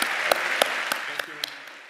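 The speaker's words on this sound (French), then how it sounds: "Applaudissons Elon Musk, tout le monde." An audience applauds Elon Musk at the end of an interview, a brief burst of clapping with a few sharp, distinct claps standing out as it tapers off.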